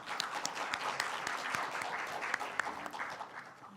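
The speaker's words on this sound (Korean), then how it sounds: "일어나서 좀 박수 한번 좀 부탁드리겠습니다" An audience at a journalists' association anniversary ceremony applauds, a dense, steady patter of many hands clapping together in a hall, sustained throughout and gradually easing toward the end.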